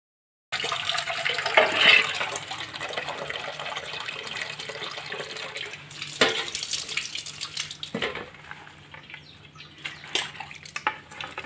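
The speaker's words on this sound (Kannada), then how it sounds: "ಒಂಜಿ 2 ಸರ್ತಿ ಲುಂಬುಗ ಬೇತೆ ನೀರಡು ಮಕ್ಕ ಮೂರ್ದು ಲುಂಬಾರೆ ಬಲ್ಲಿ ಆಯ್ತಾ" Fish being rinsed by hand in water for a village-style fish masala fry: steady running and splashing water with occasional clunks and sloshes, fairly quiet and close.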